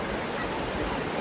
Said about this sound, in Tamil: சுற்றியும் தண்ணி இருக்கும், சுற்றி ஆறு வேகமாக ஓடிட்டு இருக்கும்.